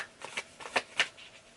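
Tarot cards being shuffled by hand, a quick run of soft, crisp riffling flutters in several short bursts, close and quiet with no talking.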